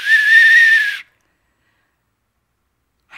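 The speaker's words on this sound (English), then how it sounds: "I'm going to count and I'm going to blow this whistle" A single loud, steady blast of a whistle lasts about a second, followed by silence.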